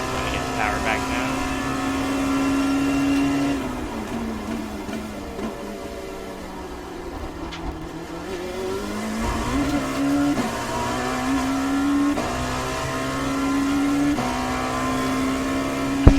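Dallara P217 LMP2 race car in the iRacing sim at Sebring, engine note dipping then climbing steadily as power is reapplied, a sustained mid-loud drone with a person talking over it.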